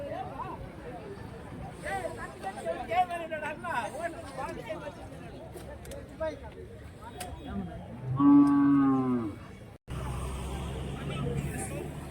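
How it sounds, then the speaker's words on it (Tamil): A cow moos once, loud and close, amid a calf sale in Santhipuram, Andhra Pradesh. Someone talks throughout, with background chatter and passing vehicle noise. "ஸோ அந்த சைடு வந்து மாடு இருக்குது பாருங்கள்"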